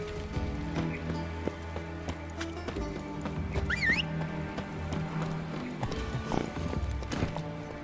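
Clip-clop of a horse's hooves at a steady gallop in the video game The Witcher 3, with a brief whinny and a continuous game music and ambience bed underneath.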